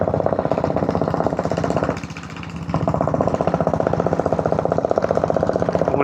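A diesel Royal Enfield Bullet motorcycle engine thumps steadily while climbing the Yercaud hill road, a loud, close, rhythmic low chugging that briefly softens around the middle before resuming at full strength.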